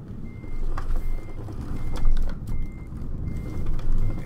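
A Mercedes Arocs SLT truck reversing in Euro Truck Simulator 2, with a regular reversing beep repeating over a loud low diesel engine rumble.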